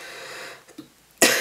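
A single sharp cough bursts out at the end after a moment of quiet room noise and a faint rustle.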